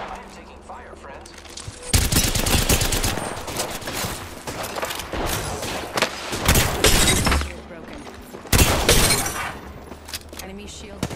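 Bursts of gunfire during an Apex Legends match, loud rapid volleys with cracks and impacts coming in several waves while voices talk between and over the shots.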